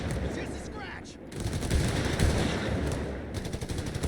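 Dense machine gun fire in the Company of Heroes 3 strategy game, sustained rattling bursts layered over a busy battle din, loud throughout with a stronger stretch of rapid shots near the end.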